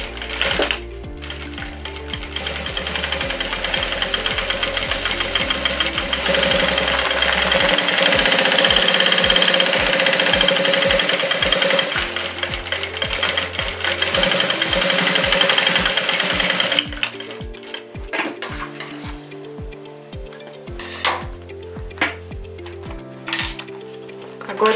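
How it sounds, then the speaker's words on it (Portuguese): A sewing machine stitches plastic sheeting onto fabric in quick mechanical bursts, its rapid needle pulses stopping and starting at close range over a long stretch. "E aí eu passo uma costura prendendo o plástico junto."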